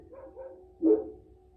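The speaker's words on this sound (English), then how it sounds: "Sorry about my dogs." Pet dogs at home give a single close bark after a few softer whines or yips, with no talking over them.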